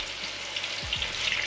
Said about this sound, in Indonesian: Kita goreng dulu ya